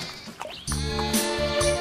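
A goat bleating at night: a faint scuffle, then several wavering, nasal bleats in quick succession, fairly close and with no voices.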